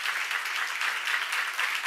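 A church congregation at a seminar claps together, a brief, even burst of many hands heard from across the hall at moderate level.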